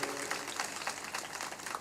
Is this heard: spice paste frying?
no